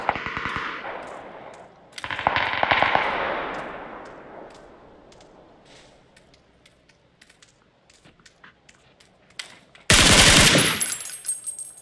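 Automatic gunfire in the battle royale game PUBG: loud close bursts of rapid shots near the start, at about two seconds and again near the end. Each burst fades into echoing decay, and scattered faint clicks fill the quieter stretch between.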